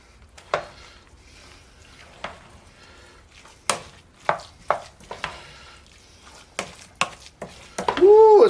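A thick cashew sauce is worked into a vegan rice ball mixture, heard as sporadic close wet thuds and scrapes of a utensil in a bowl, ending in a brief squeaky whine.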